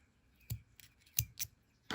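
Scissors snipping thread after it is looped through a knot, a few sharp close clicks spaced unevenly, quiet, with no talk.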